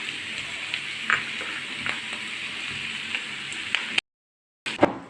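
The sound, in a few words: garlic and ginger frying in coconut oil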